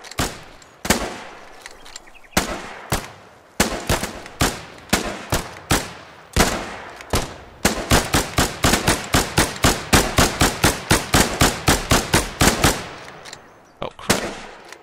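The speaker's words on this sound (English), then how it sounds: "Oh, nope, they set up a machine gun." Rapid bursts of machine gun fire in the video game Running With Rifles, loud sharp cracks that start sporadic then settle into a steady fast rhythm before trailing off into a few scattered shots.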